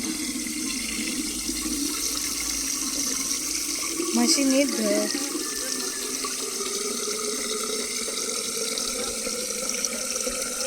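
Water runs steadily from a tap in a continuous hiss while a person speaks briefly over it.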